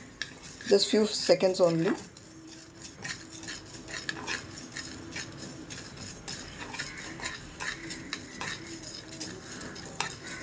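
Cumin seeds for rasam powder are dry-roasted in a pan, with a soft continuous crackle and light scraping of a spoon against metal, close up; a person speaks briefly at the start.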